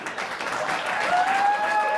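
Studio audience applause at a late-night television comedy show, a dense steady wash of clapping that holds at an even level throughout, with no talk over it.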